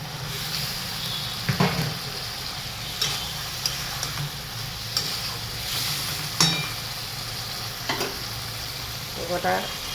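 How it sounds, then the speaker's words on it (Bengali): Pointed gourd sizzling and frying in a pan after water is added, a steady hiss broken by sharp bursts of crackle and the scrape and tap of stirring. "এবার আমি জল দিয়ে দিচ্ছি।"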